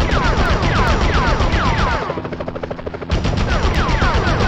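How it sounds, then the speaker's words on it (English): Rapid video-game gunfire from the PlayStation Spider-Man title, loud bursts of automatic fire rattling continuously over a whirring engine-like drone, with a brief quieter dip midway before the shooting resumes at full force. "Enough with the shooting already!"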